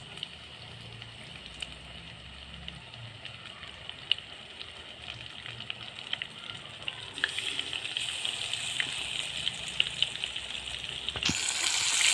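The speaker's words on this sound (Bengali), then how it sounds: "এই মশলা মাখানো লোটে মাছগুলো একটা করে এইরকম করে বেসনে ডোবাবো এভাবে ডোবাবো তেলে দিয়ে দেবো" Besan-coated, spice-marinated loitta (Bombay duck) fish frying in hot oil, giving a steady low sizzle and bubbling that rises toward the end, with a sharper burst of crackle near the close, with no voices.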